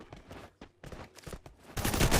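Bursts of gunfire in a Free Fire match crackle in short, separated volleys that build into a dense, continuous barrage at the end, with no talking over them.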